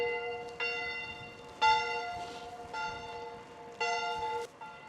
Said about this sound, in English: Got the church bell rolling.